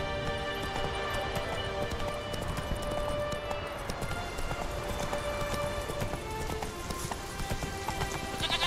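Roach the horse gallops in The Witcher 3, with rapid, even hoofbeats drumming close and continuous, and occasional brighter clatters near the end.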